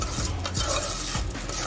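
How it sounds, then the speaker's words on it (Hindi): Popcorn kernels stirred and browned in a pan over a medium flame, a continuous scraping rattle of kernels against metal with a faint sizzle beneath, close and fairly loud. "अब इनको थोड़ा ब्राउन करेंगे, इस तरह हिलाते रहना, अगर छोड़ेंगे तो ये जल जाएंगे।"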